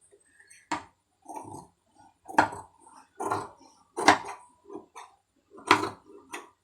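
Scissors snip off the extra thread piping on a piece of fabric in a series of short, crisp cuts with brief pauses between them, close by and fairly quiet, with no voices.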